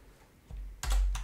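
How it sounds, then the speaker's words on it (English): Two sharp plastic key presses on a computer keyboard, Alt then Enter, while entering text in a spreadsheet cell, close and crisp with a brief pause between them and no talking. "What you need to do on your keyboard is press Alt, and then press enter or return."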